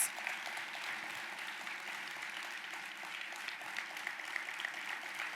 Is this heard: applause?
yes